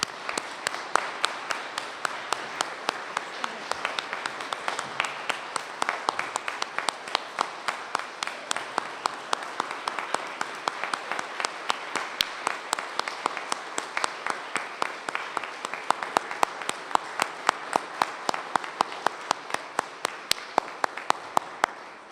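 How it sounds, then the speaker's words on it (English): Audience applause at the 2022 Order of Prince Edward Island investiture ceremony: a dense, steady round of many hands clapping indoors, sustained evenly for over twenty seconds with no voices. "Please give them a round of applause."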